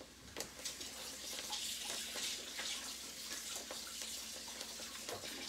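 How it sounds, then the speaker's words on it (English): Garlic rinsed under a running kitchen tap while making taco soup, a steady broadband splash of flowing water lasting the whole stretch with small clatters, no talking. "We're gonna rinse."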